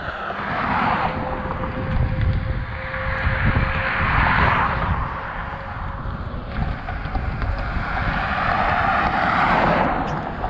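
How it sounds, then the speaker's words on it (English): A car swells past on a road beside a trail with a tight shoulder, a loud whoosh mixed with wind buffeting the microphone, followed by more passing rushes. "Gonna wait for this car to pass and get on the other side."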